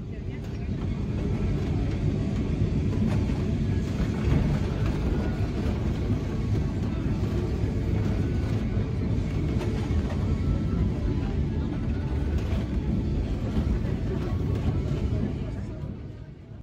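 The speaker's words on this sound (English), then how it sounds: "let you enjoy the Tram 28 ASMR" One of Lisbon's historic Tram 28 streetcars rumbles along its track in a steady, continuous run with rattling and clatter, fairly close and sustained before fading slightly at the end.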